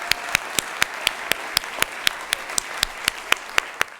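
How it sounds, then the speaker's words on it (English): Clapping for a Hampton High School Gates Scholar honoree at a Hampton City Schools board meeting: sharp, evenly spaced claps in a steady rhythm, about four per second, over a faint room hush. "Let's have another round of applause for her."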